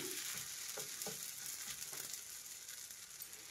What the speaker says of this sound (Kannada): ತವಾ ಬಿಸಿಯಾಗಿದೆ. ಚಪಾತಿ ಹಾಕ್ತಾ ಇದ್ದೀನಿ.